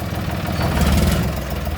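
Parked John Deere 5310 tractor in Buriram, offered for sale, being revved: a loud, close, steady engine rumble that swells slightly in the middle, with no talking.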